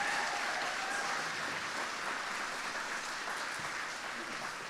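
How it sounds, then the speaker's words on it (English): Sustained, fairly loud audience applause for Brianna Breach at a youth homelessness policy breakfast, a dense steady wash of clapping that holds at an even level throughout. "I think she deserves another round of applause"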